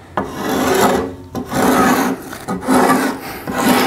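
A spokeshave shaves a wooden paddle shaft in close, rasping strokes, four or five rough scraping passes with short pauses between them.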